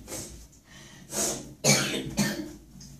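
A few harsh coughs and throat-clearing bursts close to the microphone, spaced unevenly over a few seconds with no talking.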